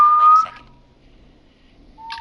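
Whistling in the video game Killer Frequency: a clear sustained whistled note, then silence, followed by the start of another whistled tone, mixed with faint game sounds.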